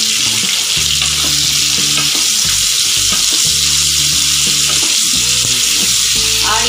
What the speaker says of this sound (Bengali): এবার আমি কড়াইতে দিয়ে দেব পেঁয়াজ কুচো করে রাখা ছিল একটা